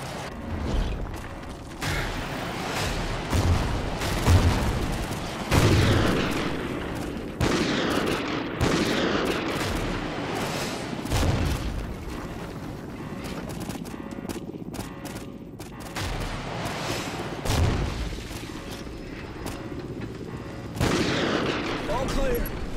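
Remote sniper shots and gunfire in Call of Duty Ghosts, repeated sharp cracks and bursts spread through a busy battle with mechanical clanks and rumble, with voices shouting orders over it.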